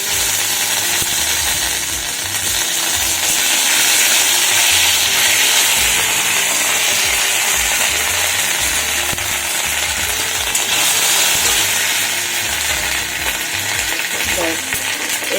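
Ginger paste fries with bay leaf, dried chillies, mustard and radhuni in a pan, giving a loud, steady, close sizzle with stirring scrapes throughout and no talk.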